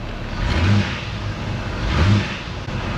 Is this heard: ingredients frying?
no